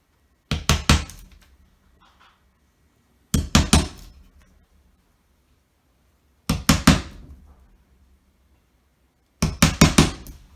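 A hammer taps a nail to mark the centers of fastening points. Four separate clusters of quick, sharp knocks come about every three seconds, each cluster a rapid run of four or five hits, with no talking.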